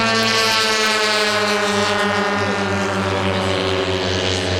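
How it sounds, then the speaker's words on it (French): Steady, loud propeller engine drone with a strong low hum, continuous for the whole stretch, as P-47 warbirds fly overhead at an air show at La Ferté-Alais. "il y a un peu de bruit parce que c'est les P-47 qui sont en l'air là"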